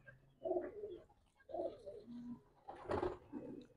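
Pigeons coo close by in soft, throaty phrases, three or four rounds of low burbling calls separated by brief pauses.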